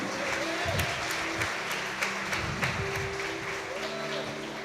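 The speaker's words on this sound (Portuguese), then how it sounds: "Você pode dar um forte aplauso ao Senhor de Jesus?" Church conference congregation giving a sustained round of applause, dense, even clapping from a large crowd filling the whole stretch with no pauses.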